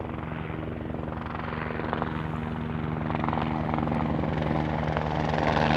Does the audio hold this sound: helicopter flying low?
yes